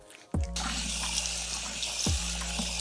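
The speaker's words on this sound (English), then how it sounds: "And then you rinse with warm water." Warm tap water runs steadily from a faucet into a bathroom sink during a morning face rinse, a continuous close splashing hiss with a brief pause and a splashy restart near the end.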